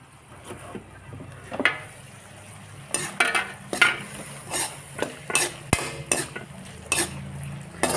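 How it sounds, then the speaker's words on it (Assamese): Chicken curry being stirred in a pot, with a series of scraping, clinking utensil strokes against the pot and a soft frying sizzle underneath, fairly close and moderately loud, no voices. "মই মাজতে আকৌ এবাৰ লৰাই দিছোঁ।"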